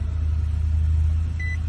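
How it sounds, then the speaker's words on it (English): An Infiniti car engine runs with a steady, close, low rumble and no voices. "car starts."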